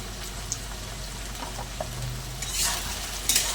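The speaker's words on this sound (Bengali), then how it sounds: "সব কিছু দিয়ে একসঙ্গে একটু ভালো করে কষিয়ে নেব" Spices frying in a pan with powdered masala for a prawn and kochur loti curry, a low sizzle with a few light stirring clicks that swell into a brighter hissing burst near the end, no talking.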